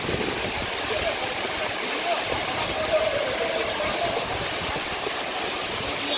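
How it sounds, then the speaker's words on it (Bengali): Dhuppani waterfall in Rangamati roars as a dense, unbroken rush of falling water, loud and close throughout, with a person talking over it. "তো আমরা আছি এখন হচ্ছে ধূপপানি ঝর্ণার সামনে।"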